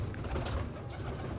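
Pigeons of Indian and Rampuri breeds coo softly in a breeder's loft, low rolling calls overlapping at close range.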